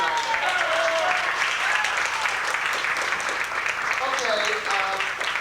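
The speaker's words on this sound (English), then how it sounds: "how about a hand for all the comics and MCs tonight?" Audience at a stand-up comedy club in New York applauding the comics and MCs, a loud, sustained wash of clapping with cheers and voices mixed in.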